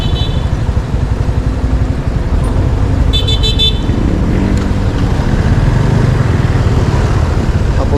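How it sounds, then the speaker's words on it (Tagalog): A long trailer truck rumbles past on a road, its heavy engine noise loud and continuous, while a brief burst of car horn honks sounds midway through the passing traffic. "Ups, ang haba niyan. Trailer truck yan eh."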